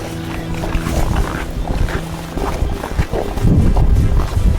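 Strong wind roars and gusts through a snowstorm on Taebaeksan mountain, buffeting the microphone with a steady rushing noise that swells louder toward the end.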